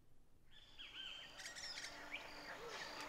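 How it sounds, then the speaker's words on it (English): Birds singing in the morning along the Huatulco River, several clear whistled calls and chirps after a quiet start, bright and layered over a soft background hiss, moderately close. "the morning is flooded with the voices of the birds."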